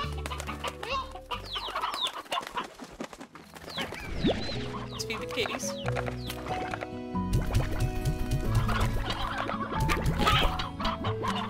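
Stony hens clucking in the Slime Rancher video game, a busy run of short game-sound clucks mixed with other game effects, with a voice speaking briefly over them.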